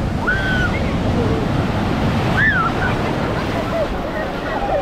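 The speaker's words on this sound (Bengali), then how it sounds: "চরম ঠান্ডা জল, কারণ ঠান্ডা। ওই দেখো যা ঢেউটা দেখো।" Sea waves roll and break on Puri beach in a steady loud wash of surf, with wind buffeting the microphone and excited voices calling out faintly over the water.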